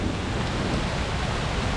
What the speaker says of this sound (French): Et on est sous un putain d'orage.